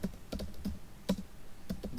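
Computer keyboard typing while a PHP backend function is written, steady irregular keystrokes close up with no talking, about a dozen key hits spread over the moment.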